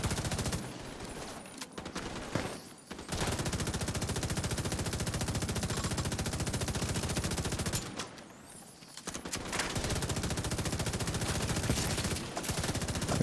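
Sustained gunfire in Rise Up Scout 2, loud rapid automatic bursts running nearly continuously, broken by two short lulls, with a sniper headshot somewhere in the barrage.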